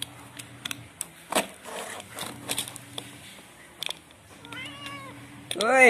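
A cat meows indoors, the calls coming in short bursts and growing louder and more drawn out toward the end, with tapping and handling noises and a person speaking between them.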